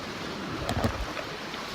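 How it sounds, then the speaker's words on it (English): Ocean waves wash ashore in a steady broadband rush with wind, one brief surge of surf standing out near the middle. "Waves."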